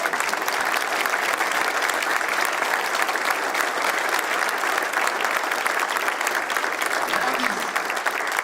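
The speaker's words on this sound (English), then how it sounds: "everybody can give you a round of applause" An audience applauds steadily at a press conference introducing a men's college basketball coach, with dense, even clapping sustained for over eight seconds at a fairly loud level.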